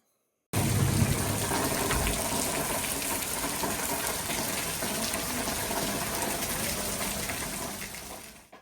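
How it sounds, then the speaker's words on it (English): After a brief silence, a continuous rushing of water starts and holds steady at moderate level, a dense hissing wash with no voices. "So it's raining outside."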